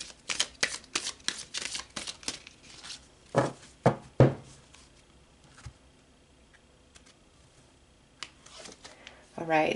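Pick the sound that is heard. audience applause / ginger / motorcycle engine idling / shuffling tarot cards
shuffling tarot cards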